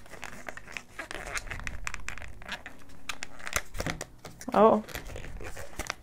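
An Urban Decay Naked Cherry eyeshadow palette is pulled from its plastic packaging, close crinkling and tearing rustles in irregular bursts, with a short exclamation from a speaker.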